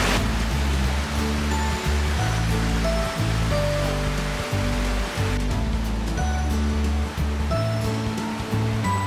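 Dave's Falls in Amberg, Wisconsin rushing in a loud, continuous broadband roar up close, with steady splashing water and low thumps underneath, no voices.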